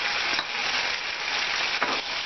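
Ginger garlic paste frying with onions in a pan, a continuous loud sizzle with brief stirring scrapes partway through.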